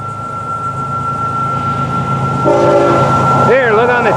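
FEC 105 freight train passing with a steady rumble and a radio tone, then a loud, close horn blast sounding in several wavering notes near the end.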